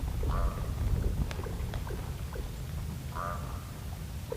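Ravens gathered around a young elk give two drawn-out, nasal croaking calls about three seconds apart, set against a steady low rumble of wind or background noise.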